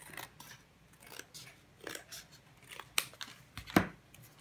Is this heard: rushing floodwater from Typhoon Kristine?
no